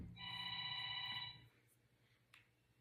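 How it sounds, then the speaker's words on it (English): Cell phone ringing indoors at moderate distance, one sustained electronic ring with steady tones lasting about a second and a half, then falling quiet apart from a small click. "There's my husband's cell phone"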